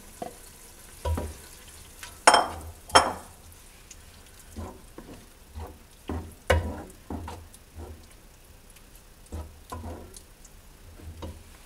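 A mixture of tomato, pepper and garlic cooks over onions frying in oil in a pan, with a soft background sizzle broken by irregular stirring knocks and scrapes, some sharp and loud.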